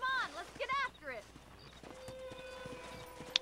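Horse hooves clip-clop faintly in the Western video game Red Dead Redemption while horses are being wrangled; a voice talks at first, then soft, irregular hoof beats continue at a distance.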